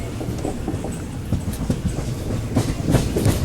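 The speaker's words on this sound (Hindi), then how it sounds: "ऑन टाइम अभी तक गाड़ी अपनी चल रही है।" A Hyderabad–Hubballi express with ICF coaches runs along the rails, its wheels clattering in a steady clickety-clack close by, with no voices.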